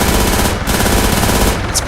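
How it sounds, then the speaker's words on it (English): Miniguns mounted on a helicopter fire in Arma 3, a dense, continuous roaring burst of rapid fire that fills the whole stretch, with no voices. "here's the sound of the miniguns"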